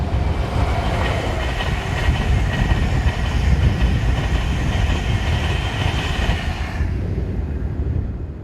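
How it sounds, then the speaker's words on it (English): Class 91 electric locomotive number 117 hauling an express passenger train north on a windy day, a loud steady roar of wheels and rushing air close by, with faint clickety-clack, fading sharply near the end. "Heading north on a very blustery 11th of October 2018 is Class 91 number 117, powering train 1S12, the 10:30 King's Cross to Edinburgh"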